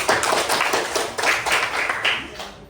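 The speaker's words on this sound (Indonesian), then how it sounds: "Sekali lagi tepuk tangan untuk Firman." A classroom of students claps together in a steady patter of many hands, close and continuous, with voices faintly mixed in beneath it.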